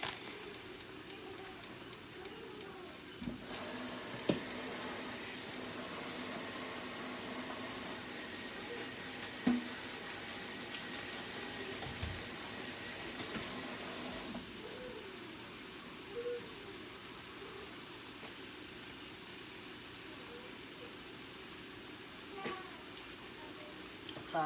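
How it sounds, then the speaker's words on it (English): Tap water running into a kitchen sink while mushrooms are washed, a faint, soft, steady hiss that switches on a few seconds in, runs for about ten seconds, then stops, with occasional small clinks. "I'm going to wash my mushrooms"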